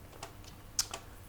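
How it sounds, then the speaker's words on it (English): A few sparse keystrokes on a computer keyboard while typing a web address, faint and close, in quiet surroundings. "I type the URL test"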